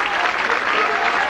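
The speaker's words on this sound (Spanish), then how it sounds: "el aplauso fuerte para el señor del Consuelo y para San Juan de Estadero" Loud, dense applause from a crowd fills the whole stretch without a break, honoring the images of the Señor del Consuelo and San Juan during a religious procession in Callao.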